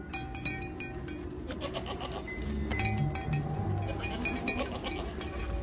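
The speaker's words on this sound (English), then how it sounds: "We started to hear goats moving across the high ground" Goats moving across high ground bleat repeatedly at a moderate distance over a steady rustle of movement, with faint clinking mixed in.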